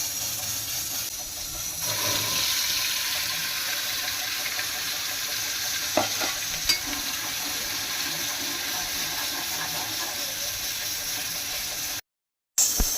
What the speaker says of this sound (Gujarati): હવે આપણે વઘાર કરીએ।